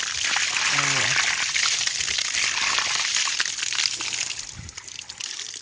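Water pumped by a 2HP water pump gushes steadily in a loud, continuous rush throughout, with a brief voice near the start and the flow easing slightly toward the end.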